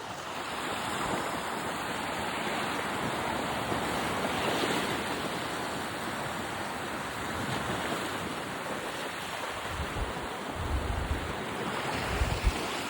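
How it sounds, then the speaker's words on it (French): Sea waves rolling onto a beach near Da Nang, Vietnam, a constant broad wash of surf with gusty wind buffeting the microphone, louder low thumps near the end. "La mer."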